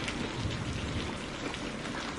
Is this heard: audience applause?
no